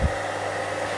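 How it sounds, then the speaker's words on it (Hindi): A hair dryer runs on a solar panel and battery setup, making a steady, close, whooshing blower drone with a low motor hum. It starts with a brief bump and holds evenly throughout. "तो सबसे पहले ये जो हेयर ड्रायर है इसको मैं लगा लेता हूँ।"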